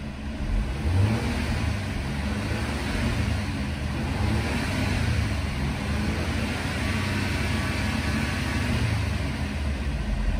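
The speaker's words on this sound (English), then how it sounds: "Engine sounds good," A 2012 Audi A4 S-Line with a 2.0-liter turbo engine idles and revs in steady swells, a smooth mid-pitched engine drone heard up close and alone with no talk.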